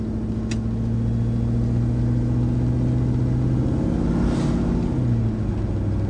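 An old car's engine running steadily in third gear after a shift, a low even drone with a slight pitch rise toward the end and a faint click early on.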